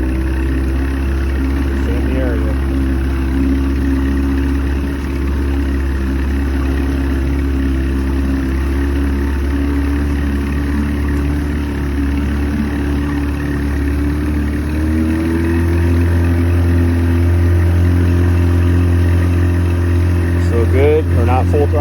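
An Evinrude outboard boat motor runs out on the water with a steady droning hum that grows louder and higher partway through as it is throttled up. Someone talks over the engine.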